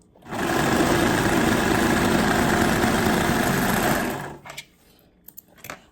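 Serger-style sewing machine driven by a foot pedal hums in one continuous close, loud run of about four seconds, then cuts off, leaving a few small handling clicks.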